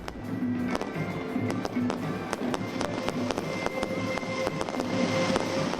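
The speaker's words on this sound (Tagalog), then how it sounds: "nagliwanag ang paligid sa makulay at maingay na community fireworks display" Irregular sharp pops and crackles burst repeatedly over a steady background rumble, like fireworks going off at a moderate distance, from a community Chinese New Year fireworks display in Manila.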